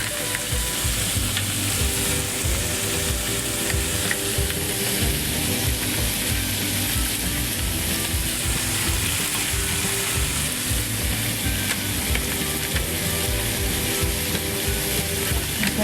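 Kimchi and pork stir-fry in a hot pan with loud, steady sizzling and frying crackle and the constant scrape of stirring, close up and unbroken for the whole stretch.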